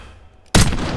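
A single loud sniper rifle shot in the Black Ops 6 campaign bursts in after half a second of quiet game ambience, with a sustained rumbling tail.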